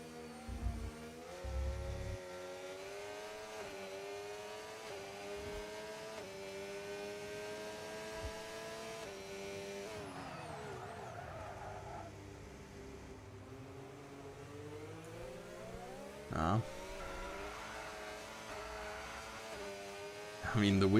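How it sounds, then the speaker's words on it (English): A Formula race car engine in a racing video game at the Canada track, a continuous droning, revving whine that rises and falls in pitch, with a brief louder burst near the end. "The engine is absolutely firing up."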